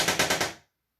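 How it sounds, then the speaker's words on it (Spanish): An electric buzzer of the household doorbell type rattles in a rapid burst of about four harsh pulses, loud and close, then cuts off abruptly into silence. "Esto es el principio de las chicharras, de los zumbadores."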